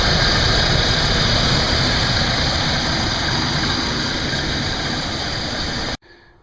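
Original 3.8 V6 in a Pontiac Grand Prix G-body running at idle, a steady loud broadband engine drone for about six seconds before cutting off abruptly, with no talk.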